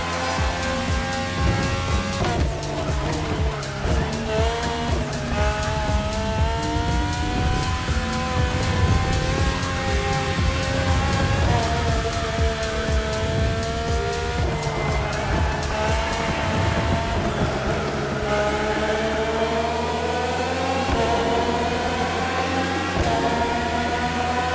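Race cars boosting with nitro in The Crew Motorfest, Red Bull Speed Clash event: loud, sustained high-revving engines whine and shift pitch up and down, with tire squeal and passing cars throughout, no voices.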